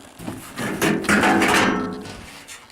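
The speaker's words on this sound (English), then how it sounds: "Now I'm going to take the top panel off." A washing machine's top panel is pried and slid off during a suspension spring repair, making a scraping, rattling clatter of sheet metal and plastic that swells and fades over about two seconds, close by and with no talking.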